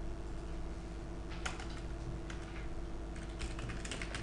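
Keys clatter on a computer keyboard as an SQL query is entered in an Oracle database developer tool, with scattered bursts of rapid keystrokes over a steady background hum and no speech.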